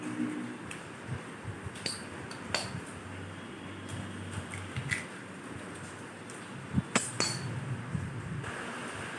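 Two eggs are cracked and poured into a blender jar for a jackfruit cake batter, with light taps and clinks against the jar and a couple of crisp, close knocks near the end. No one speaks.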